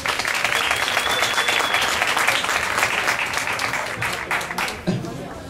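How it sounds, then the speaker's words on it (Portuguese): An audience at the Efivest Na Moral 2014 event claps steadily and loudly for several seconds, the dense applause thinning toward the end, with some chatter and voices mixed in. "Flávio Colares, por favor, palmas."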